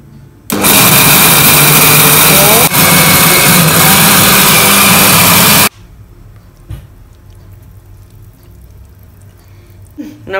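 A new kitchen blender whirs loudly and steadily for about five seconds, then cuts off abruptly, leaving faint room noise with a few small knocks.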